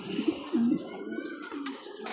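A pet bird coos softly a few times nearby in short, low, throaty bursts, with faint chirping in the background; the bird is in poor condition.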